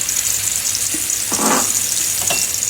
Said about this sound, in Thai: ผัดเครื่องแกงให้หอม